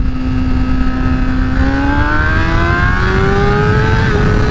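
A 2008 Honda CBR600RR motorcycle pulling hard in second gear, its loud engine note climbing steadily in pitch under heavy wind roar, recorded from the rider's position.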